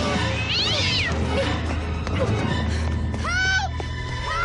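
A small, lost cat meows twice, in a high rising-and-falling cry near the start and another near the end, close by, with background hum under it.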